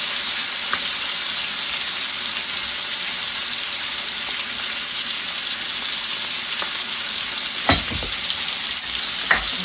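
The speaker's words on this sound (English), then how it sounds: "Now I want to try to brown it on all 4 sides if I can." A pork roast browns in butter in a hot pan, giving a steady, close sizzle and crackle, with a few brief scrapes and clinks near the end.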